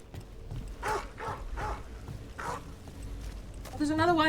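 A Mabari dog in Dragon Age: The Veilguard gives several barks at a steady pace, partly under someone talking, with a brighter voice-like tone rising near the end.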